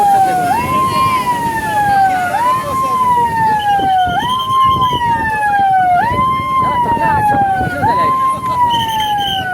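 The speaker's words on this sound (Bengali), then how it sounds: "সাইরেন বাজিয়ে ঘুরে সাবধান করছেন নুলিয়া কর্মীরা" Beach lifeguards at Digha sea beach sound a loud, close siren to warn tourists off a rough sea, its wailing tone rising and falling in a steady repeating cycle over vehicle and crowd noise.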